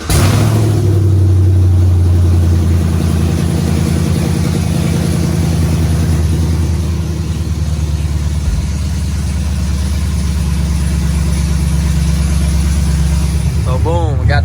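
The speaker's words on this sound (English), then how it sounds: "So this is the cold start at the headers." A 2017 Chevrolet Camaro SS V8 cold-starting through newly installed Speed Engineering headers settles into a loud, steady, deep idle that runs nearby for the whole stretch, with a brief rev at the end.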